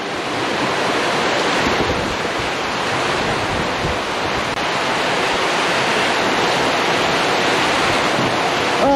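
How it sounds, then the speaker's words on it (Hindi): A steady, loud roar of heavy monsoon storm rain pounding down in Mumbai, dense and continuous throughout, with no voices. "तूफान वाली बारिश देखो सब प्लास्टिक फट गई हमारी।"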